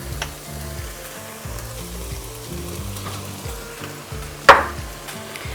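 Ground beef sizzles steadily in a hot pot with sautéed bell pepper and vegetables for stuffed pepper soup, a constant close frying crackle with a sharp metallic clink from a utensil near the end.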